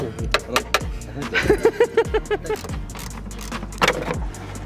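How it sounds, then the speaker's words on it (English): A broken-down van's starter motor cranks in a parking lot at night, giving a loud run of rhythmic, evenly spaced whirring pulses with a jangling, metallic edge and some shorter bursts before and after. "Is that the starter?"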